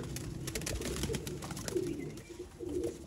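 Soft, repeated cooing from pet pigeons of a Feroz Puri bloodline, fairly close, rising in a few low throaty phrases over a constant hum of outdoor background noise, with no voices.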